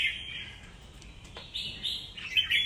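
A songbird in a bird-singing test gives rapid, high chirping trills in bursts, fairly close and clear over a quiet background, with short pauses between phrases.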